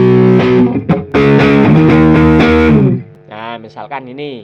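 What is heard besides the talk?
distorted electric guitar through effects unit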